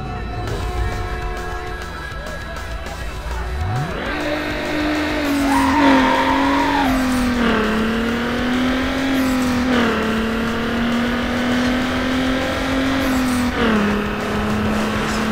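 A Subaru Impreza race car in Need for Speed Underground 2 revs up and accelerates hard, its engine note climbing and holding at a loud steady drone through repeated gear changes, with tire squeal along the way.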